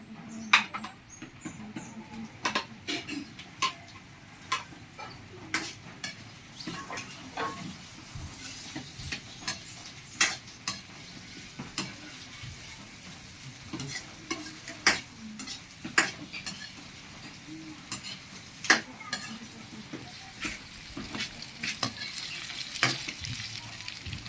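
Meat frying with plenty of sliced onion in a pan for a Filipino igado dish, a steady sizzle broken by frequent sharp scrapes and clacks as it gets stirred, close and continuous.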